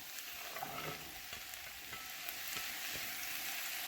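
Garlic, zucchini and celery hit a hot pan and sizzle steadily, a soft, even frying hiss that swells slightly toward the end, with no voices.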